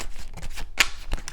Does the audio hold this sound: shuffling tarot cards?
yes